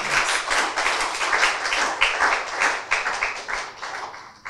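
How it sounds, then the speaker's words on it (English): Audience applause at a launch event for a national youth investment and education program, a few seconds of dense, steady clapping from a crowd at moderate level with no talk over it. "I think they deserve a big round of applause."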